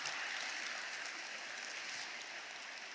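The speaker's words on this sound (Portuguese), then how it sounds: "Você pode aplaudir ao Senhor nessa manhã?" Church congregation applauding during a Sunday morning service, a steady, dense wash of clapping that stays even and sustained from start to finish with no voices rising above it.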